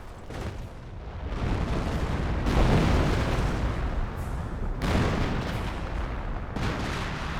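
A creeping artillery barrage in a war strategy game: a continuous heavy rumble of shelling, with loud booming impacts landing every couple of seconds and nothing else heard.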